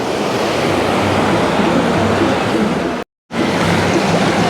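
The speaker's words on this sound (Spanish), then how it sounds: "Si bien estoy caminando por acá por el agua, por la orilla del mar" Sea waves wash continuously onto a beach shore at Canasvieiras, Florianópolis, in winter, a loud, steady roar of surf with wind noise, briefly cutting out near the end.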